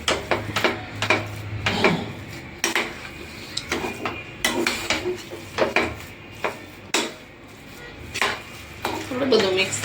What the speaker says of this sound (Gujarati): હવે આ બધું આપણે મિક્સ કરી દઈશું.